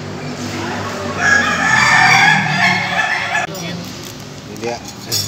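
Ayam Ketawa laughing chickens crow loudly at a farm during a crowing contest, one long rippling, laugh-like call in the middle followed by shorter bursts, with background chatter from people nearby.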